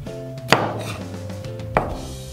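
A kitchen knife cuts vegetables on a cutting board on the diagonal, giving two crisp separate chops about a second apart over soft background music.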